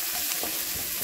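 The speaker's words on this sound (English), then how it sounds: "we add some avocado oil to the pot along with the sofrito and the garlic, and we're going to cook that first to flavor the oil" Sofrito and garlic cook in avocado oil in a pot, giving a steady, close, continuous sizzle with faint stirring scrapes.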